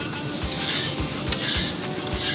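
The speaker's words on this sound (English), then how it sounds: "Char the other side just to seal in the flavours." Meat sears in a hot pan, charring one side, with a constant bright sizzle and soft, regular low thumps close by.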